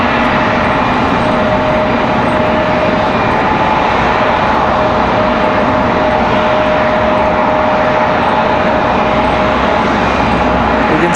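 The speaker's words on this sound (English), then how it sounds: "United off to Washington Dulles" A United airliner takes off from Raleigh-Durham bound for Washington Dulles, a loud, sustained jet roar with a faint tonal whine running through it, unbroken and with no voices.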